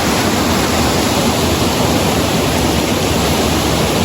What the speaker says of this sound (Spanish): No acompaña el sonido del agua, ¿verdad?